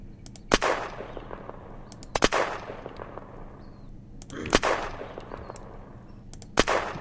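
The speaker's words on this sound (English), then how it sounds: "I've got a really overpowered gun." Gunfire from an overpowered suppressed gun shooting zombies in the video game Unturned, five loud sharp shots in irregular pairs and singles over steady game ambience, with no speech.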